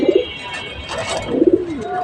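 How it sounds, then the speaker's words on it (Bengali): Racing pigeons cooing nearby in two short bursts of soft, throaty rolling coos, separated by a pause with faint background noise. "এগুলো হচ্ছে রেসার কবুতর।"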